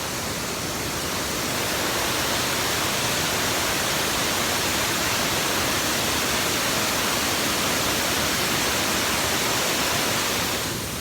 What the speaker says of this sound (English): That water's raging down there.